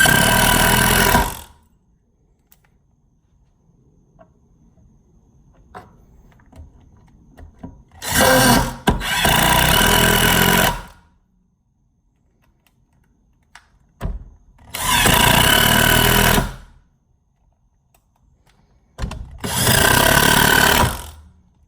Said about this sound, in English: Let's try a couple 3-inch wood screw fasteners.